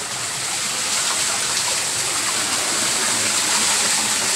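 Water gushes steadily and loudly from the outlet of a surface solar water pump, a continuous broadband rush with no pauses.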